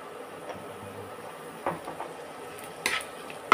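Egg curry masala of onion, ginger and garlic with salt is stirred in a pan over low to medium flame. It gives a soft background hiss with a few scattered scrapes and clinks of the spoon.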